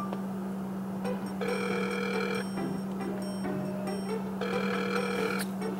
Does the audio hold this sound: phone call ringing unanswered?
yes